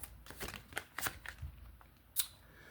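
Tarot cards being shuffled by hand in several quick riffling bursts with soft papery slaps and a sharper flutter near the end, close and fairly quiet with no talking.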